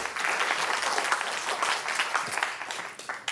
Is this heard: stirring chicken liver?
no